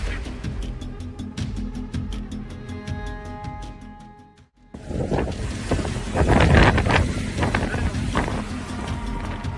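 Strong tornado winds sweeping across a town in Tongliao, China, a loud, continuous roaring rush of air with heavy buffeting, a brief dip partway through before the roar surges back even louder.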